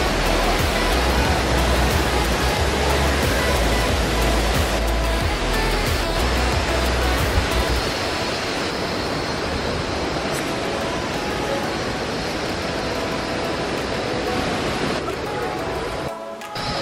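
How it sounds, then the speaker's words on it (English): Kathu waterfall on a hike in Thailand roars as a dense, continuous wash of falling water, loud and close, filling the whole stretch with a steady hiss and rumble. "We've arrived probably at the second waterfall, but probably this is the best one here."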